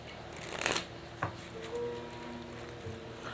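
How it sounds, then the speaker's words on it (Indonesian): Tarot cards shuffled and drawn from a deck, a soft papery riffle peaking early, then a brief snap and faint sliding rustles, close and quiet with no talking. "Untuk menghemat waktu, saya akan tarik dulu semua kartunya sekaligus,"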